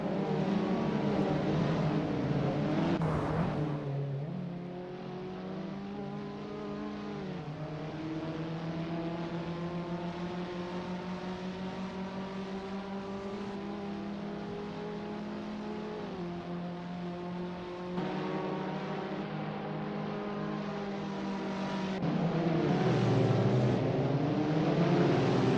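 Abarth 500 race cars accelerate in Assetto Corsa as a sustained, buzzing engine note climbs and shifts through gears, with several cars droning together steadily and surging louder near the end.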